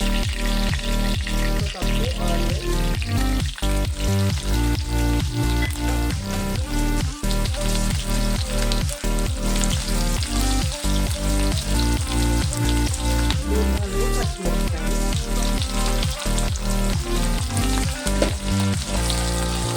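Mustard seeds and curry leaves fry in hot oil as seasoning for a raw banana fry. The dense, loud sizzle runs continuously and is peppered with rapid crackling pops throughout, with no voices.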